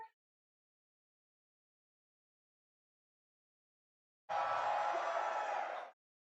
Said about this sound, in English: Crowd's loud today.